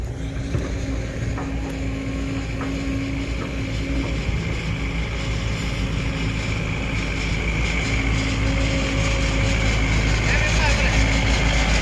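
A tractor engine runs continuously while being driven across a rice field, a steady loud low rumble with a slight rise in intensity toward the end, with no voices.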